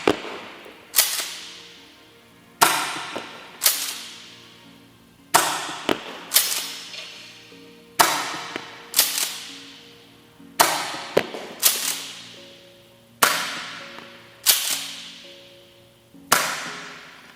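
A Velites Invicta G-V airsoft replica fires 0.36 BBs at a mannequin: sharp, loud single cracks with ringing tails, about a dozen shots in uneven pairs and singles, no talking.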